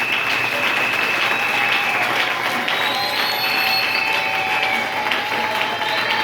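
A church congregation in Lubumbashi applauds at a Sunday service. The clapping is loud, dense and continuous, with faint cheers and voices mixed into the crowd noise.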